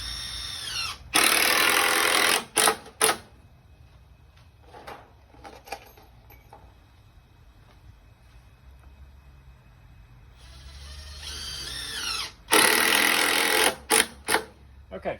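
Power drill driving screws into a wooden greenhouse bench: two loud whirring bursts, each followed by short stop-start pulses, separated by a quieter stretch of handling noise and a person speaking.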